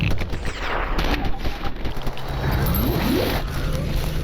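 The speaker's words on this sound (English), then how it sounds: "I think that merc shot his buddy in the back." Bursts of gunfire from mercenaries in Stalker Anomaly, a rapid crackle of shots in a noisy outdoor scene, moderately loud, with a whooshing sweep near the end.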